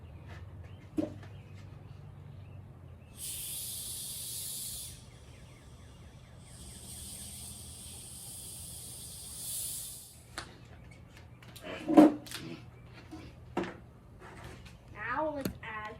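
A Coca-Cola bottle cap is loosened slightly, letting out two separate bursts of sharp, steady carbonation hiss a few seconds apart, close up, followed by handling noises and a person speaking.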